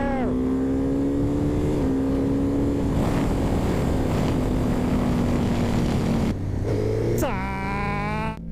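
A Suzuki GSX-S1000GX motorcycle rides along a highway at the speed limit, its engine a loud, steady drone with shifting pitch, then a quick rev change near the end, with wind roar throughout.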